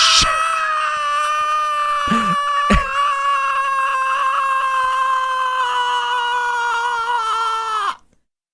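A voice imitates a long, sustained shriek as if from someone buried alive in a grave, one loud, near, strained wail held for about eight seconds with a couple of brief breaks before stopping abruptly.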